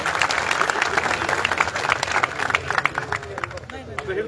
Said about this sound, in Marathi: सर्वांनी टाळ्या वाजवून त्यांचं पक्षामध्ये स्वागत करावं